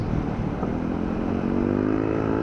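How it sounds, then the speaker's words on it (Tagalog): Motorcycle engines labor up a hot mountain road toward Banaue in the Cordillera. A loud, steady droning strain rises slightly in pitch throughout, with no talking. "umiiyak na naman yung mga motor namin"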